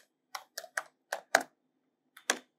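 Quiet, close keystrokes on a computer keyboard: a short burst of five taps, a pause, then two more, with no talking.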